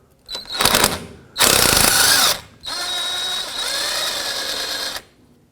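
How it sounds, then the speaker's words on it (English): Power tool bursts loosening a sway bar link bolt on a 2007-14 Chevy Silverado, three loud close whirring runs of roughly a second or more each with short pauses between. "you can just undo the bottom bolt, which is the main bolt for the sway bar link"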